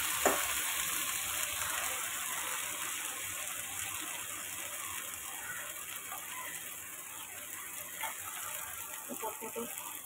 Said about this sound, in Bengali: গরম তেলে দিয়ে দেবো বেশ কিছুটা কালো জিরে ফোড়নে